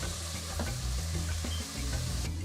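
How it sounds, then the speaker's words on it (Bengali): Rice and lentils being stirred as they fry in a pan for khichuri, a steady close sizzle with scraping stir strokes throughout, no talking. "চালটাকে খুব ভালো করে একটু নেড়ে নেব।"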